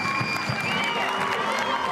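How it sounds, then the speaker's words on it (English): Crowd applause at an A-League women's football match between Western United and Newcastle Jets, a steady wash of clapping and murmur under a commentator's voice. "Zimmerman getting a warm round of applause as well"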